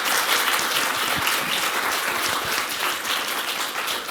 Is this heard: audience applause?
yes